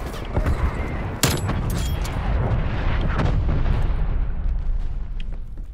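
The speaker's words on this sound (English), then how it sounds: "Woods requesting artillery barrage." Continuous rumbling artillery barrage in Call of Duty Black Ops Cold War, heavy overlapping booms and blasts rolling loudly without pause, with a few sharper cracks near the start.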